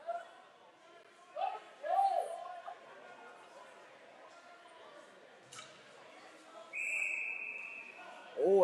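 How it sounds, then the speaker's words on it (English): A referee's whistle shrills during a women's ice hockey game in an arena, one sustained blast standing out above scattered crowd noise and rink clatter, with commentators talking throughout. "he just blew the whistle."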